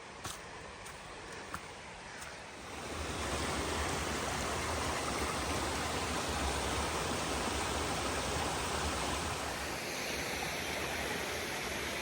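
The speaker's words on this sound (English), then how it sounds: "This waterfall is gorgeous." A mountain waterfall on a hiking trail climb rushes as a dense, steady roar that swells in after a quieter start and holds unbroken, close and full.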